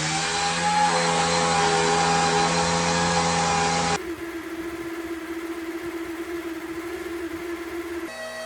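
A clean-running two-stroke engine with valves, able to switch between different fuels on the fly, runs steadily and loudly with a strong harmonic drone for about four seconds, then drops to a lower, quieter idle-like hum.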